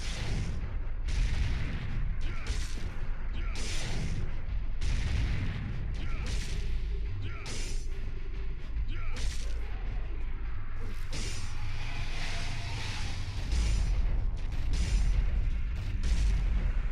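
Grenade-gun fire in the Devil May Cry 1 video game: a series of heavy, booming blasts repeating every second or so across the span, loud and close, with a player talking at times.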